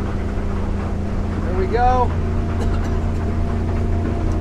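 An Edge Marine 23-foot boat with a Yamaha 250 outboard runs at speed, giving a loud, steady engine drone and wind rush, while someone speaks briefly over it.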